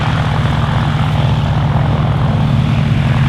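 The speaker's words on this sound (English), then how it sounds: "This is one of the privately owned aircraft based here at Old Warden." A privately owned propeller aircraft at the Old Warden air display gives a steady, loud engine drone with a throbbing low propeller beat. It holds unbroken throughout, and no voices are heard.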